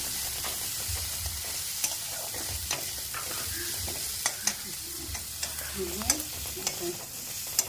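Ground spices and cumin frying in oil while being stirred, producing a soft, steady sizzle with intermittent scraping and sharp clicks of the utensil against the pan, up close.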